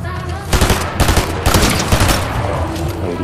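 Rapid gunfire in Fortnite rings out in loud, close bursts of overlapping shots over about three seconds, with brief pauses between volleys and no talk over it.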